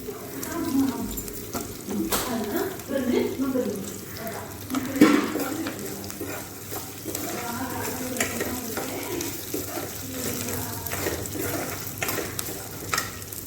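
Ingredients for ivy gourd chutney sizzle and fry in a pan, a steady crackling hiss with occasional stirring scrapes and clinks, while someone talks over it at a moderate level.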